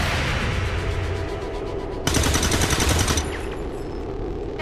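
Gunfire in XCOM 2: War of the Chosen rips out as a loud, dense automatic burst lasting about a second, flanked by softer rattling fire and lingering battlefield noise before and after.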